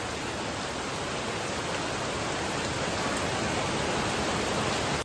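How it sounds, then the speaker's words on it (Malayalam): Heavy rain pours down in a dense, steady hiss that fills the whole clip, loud and unbroken, with no voices heard. "നല്ല മഴയാണ്"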